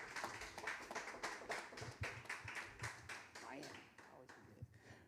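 Crowd applause at a jazz event as the musicians are introduced, with steady clapping throughout, fairly loud and sustained, with some cheering mixed in.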